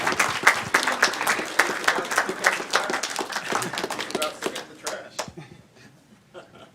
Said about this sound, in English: Now's where you applaud.